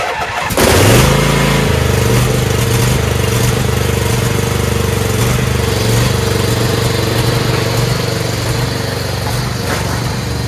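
A Troy-Bilt TB240 self-propelled lawnmower with a Honda engine pulls into life and settles into a loud, steady running drone close by.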